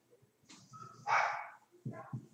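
A dog barks once upstairs, fairly faint and muffled as if from another room, followed by a couple of short low thumps.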